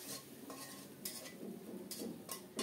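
Spice paste being sautéed and stirred in a pan with a splash of water while cooking a thin fish curry, giving repeated close scraping and stirring strokes over a steady low sizzle, no voices.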